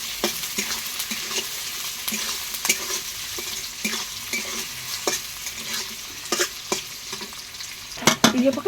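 Onions and masala fry for a mushroom dish in a pan, under a continuous sizzle with frequent rhythmic scrapes and knocks of a spoon stirring. A busier burst of clatter comes at the end.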